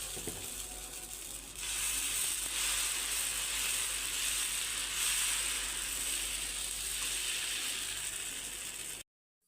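Pesarattu batter of ground moong and rice sizzles on a hot griddle, a steady bright hiss that swells after a few seconds and holds evenly before cutting off abruptly.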